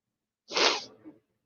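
A single loud sneeze up close, a sharp burst of breath followed by a brief trailing exhale, in an otherwise quiet room.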